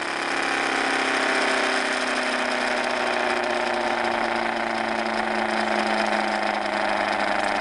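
An Orbo / Ben Thomas motor in a Lenz law experiment spins down after its power is cut, giving off a steady mechanical whine whose pitch sinks slowly and evenly throughout, continuous and fairly loud with no talking.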